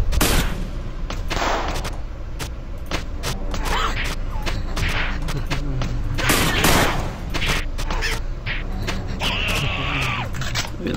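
Gunfire in the video game Nuclear Outrun, with bursts of sharp shots, mechanical clanks and heavy thuds scattered through a continuous rumbling game backdrop, with no talk.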